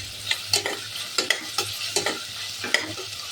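Onions sautéing in oil in a pan, with quick, repeated stirring scrapes over a bright, constant sizzle, close and clear with no one speaking.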